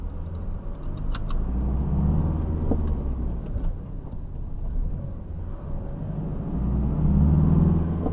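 A car cruising along the A33 motorway in Italy: a steady low engine and road rumble heard from inside the cabin, continuous and fairly loud, with a few faint rattles and no speech.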